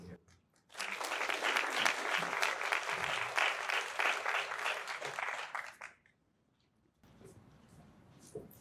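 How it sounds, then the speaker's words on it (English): An audience at an evening community photo-story event breaks into a full round of applause, a dense burst of clapping lasting about five seconds before it fades to quiet and faint room sound. "everyone in this room deserves a round of applause for helping empower these brilliant voices"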